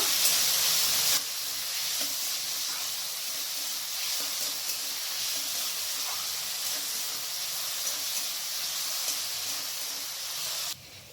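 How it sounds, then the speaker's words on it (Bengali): Finely chopped onions frying in a pan for a goat-meat kabuli chana curry, giving a loud, steady hiss that starts abruptly and runs almost unbroken until it cuts off near the end. "পেঁয়াজটাকে আমি এখানে ভেজে নেব।"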